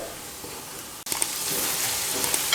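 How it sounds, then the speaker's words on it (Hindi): Tomatoes fry in a pan for chicken curry, with a steady close sizzle that swells louder after a brief stir or drop partway through. "तो 2 से 3 मिनट अभी इस टमाटर को फ्राई करेंगे।"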